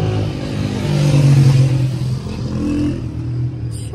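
Loud, steady engine rumble from a motorcycle, close and continuous with slight rises in revs.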